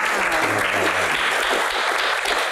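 Loud applause fills a studio audience at a Q&A talk show, dense clapping throughout with a low tonal sting of music underneath in the first second.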